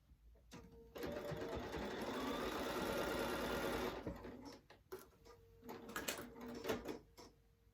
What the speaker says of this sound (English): I'm just running a little tacking stitch at the very edge, about 1/8 of an inch away